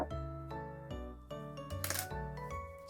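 Scissors snip through yarn at the end of a crochet amigurumi piece, a Ponyo in a bucket, giving one or two brief, crisp cuts partway through, fairly quiet and set under soft, steady background music.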